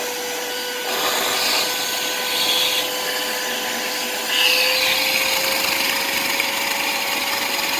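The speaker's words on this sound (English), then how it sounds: "Just shop vac all that other stuff out of it until you can hear a clean vacuum sound." A shop vac sucks on a clogged drain line of a Goodman 14 SEER 1.5-ton AC unit, producing a steady loud whine with shifting airflow and gurgling surges as debris and water are pulled through.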